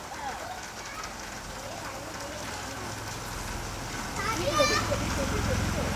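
Rain falls while small feet splash through puddles, a soft steady wash with brief splashes, and children's voices chatter over it.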